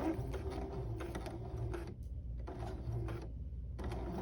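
A sewing machine runs steadily while stitching a pinned seam at a V on the seam allowance side, then pauses briefly twice and starts again.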